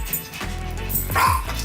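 Several dogs, including a mother dog that recently had puppies, barking and yipping loudly at close range in a home, with excited whimpers mixed into the overlapping calls.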